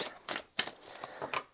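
Rider-Waite tarot cards being shuffled by hand, a handful of quick papery riffles and soft slaps in short bursts, close and fairly quiet.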